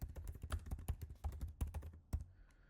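Rapid clattering keystrokes on a computer keyboard as a name is typed into a software catalog form, a close, uneven burst of taps that stops near the end with no talk.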